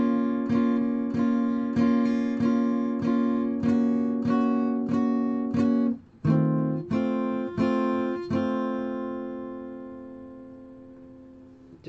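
An acoustic-style guitar strums partial chords of a song in a steady rhythm, with one brief pause and a chord left ringing out at the end, close and clear with no talking.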